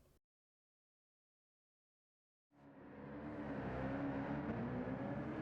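A Chevrolet Camaro SS '16 drifts at Suzuka in Gran Turismo 7, its V8 engine droning loudly and steadily after a silent gap of about two seconds, with a sustained revving tone.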